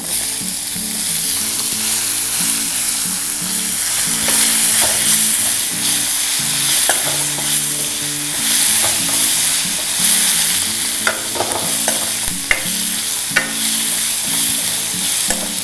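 Loud, continuous sizzling of onions frying in hot oil, with occasional stirring clinks and scrapes, no voices.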